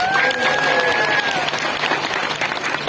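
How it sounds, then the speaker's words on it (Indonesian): A crowd applauds at a live Islamic religious talk in Kotawaringin Timur, Central Kalimantan, with steady, dense clapping throughout and a faint whistle-like tone briefly rising above it. "Tepuk tangan dulu dong."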